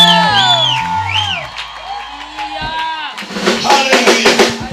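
At an outdoor thanksgiving church service on Kisii Primary Grounds, a congregation bursts into loud shouting and cheering for joy after a man's drawn-out, shouted call, the crowd roar swelling and continuing to the end.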